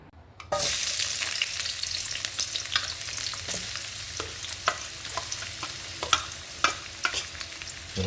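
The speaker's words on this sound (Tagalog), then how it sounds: "So igigisa lang natin yan mga idol sa kamatis tsaka sa bawang." Tomatoes and garlic hit a hot pan to sauté, with a sudden steady sizzle that keeps going, plus scattered scrapes and clinks of a spatula stirring. Close and loud, with no talking.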